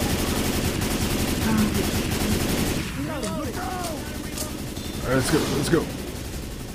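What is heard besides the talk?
gunfire in the video game Left 4 Dead 2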